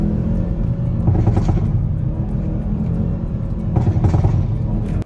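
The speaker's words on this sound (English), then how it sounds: "I'm going to peacefully drive through this town." A 2024 Hyundai i30N drives through a town, giving a steady, close engine rumble and road drone with two brief rises in intensity, and no talking.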